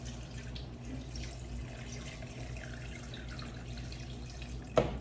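Chicken broth pours into a cooking pot of vegetables and chicken in a steady soft trickling stream, fairly quiet, with a brief sharp clink near the end.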